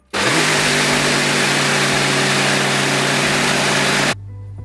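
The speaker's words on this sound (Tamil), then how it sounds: "மீதி உள்ள உளுந்தையும் அரைச்சி எடுக்க போகிறேன்." A mixer grinder grinding soaked lentils with water gives a loud, steady motorized whir that runs unbroken for about four seconds, then cuts off abruptly, leaving a low hum.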